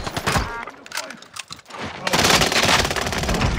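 Rapid bursts of automatic gunfire from the BAR rifle in Call of Duty: Vanguard on the Caldera map, starting as scattered shots and building into sustained, loud, dense firing over the last stretch.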